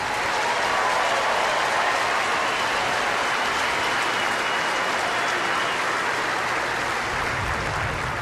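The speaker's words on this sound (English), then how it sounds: "How about a nice round of applause for these two wonderful players?" A tennis crowd at the 2003 Key Biscayne final applauds the two players, loud, dense and continuous clapping from a large stadium audience that holds steady throughout.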